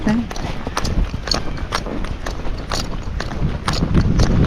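Hoofbeats of a gaited horse at a flat walk, a steady clip-clop of evenly spaced footfalls close by, with a voice talking over them.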